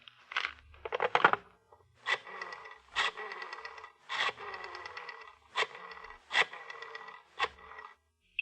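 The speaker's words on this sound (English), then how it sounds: "The sound of the flipping pages." Pages of a telephone book flipped one after another in an old-time radio detective drama, about ten quick papery riffles in an uneven rhythm, close and fairly loud, with no voices.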